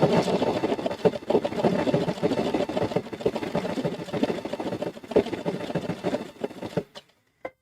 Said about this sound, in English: I'm going to go ahead and start stitching.